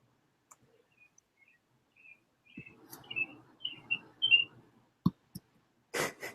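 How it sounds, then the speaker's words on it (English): Sparse, faint bird chirps and short tweets in a quiet space, with a few soft clicks and rustles nearby. "I hear birds singing outside"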